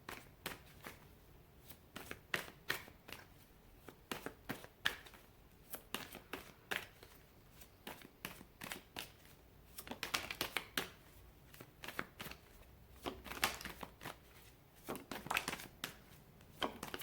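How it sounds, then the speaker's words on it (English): Tarot cards are shuffled by hand in a long run of soft riffling and snapping bursts, close up and fairly quiet, with no talking. "One more shuffle."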